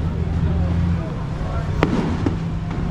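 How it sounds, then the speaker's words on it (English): Fireworks burst on Bangla Road in Phuket's nightlife strip, with two sharp pops cutting through a loud, steady wash of street crowd noise and background din. "some fireworks."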